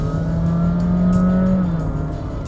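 A sedan car engine, a Toyota Vios, Honda City or Nissan Almera, roars loudly and steadily close by under acceleration, its droning hum holding strong throughout like an engine being revved.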